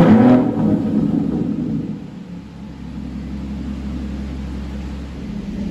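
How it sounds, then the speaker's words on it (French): An Aston Martin Vanquish engine starts with a loud burst, then settles into a steady low idle rumble, heard alone without talk. "on a démarré la jeune Aston, comme vous pouvez l'entendre"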